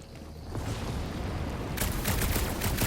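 Dense, sustained blasting from gunfire in the action game Guardians of the Galaxy, a loud continuous barrage with no clear gaps that grows brighter and more intense halfway through.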